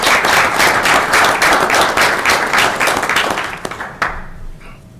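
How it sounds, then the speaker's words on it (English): An audience at a school board meeting applauds in a dense, loud burst of clapping that fades out at the end, with no voices over it. "Let's give them a round of applause again."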